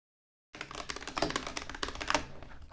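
Rapid typing on a computer keyboard, a dense run of close, crisp key clicks starting abruptly after a moment of silence and continuing steadily.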